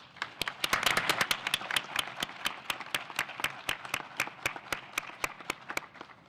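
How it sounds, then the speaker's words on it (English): An audience applauding candidates at a League of Women Voters forum in Sioux City, a burst of clapping that thins out to a few steady, evenly spaced claps, moderately close in a room. "Please give them a round of applause."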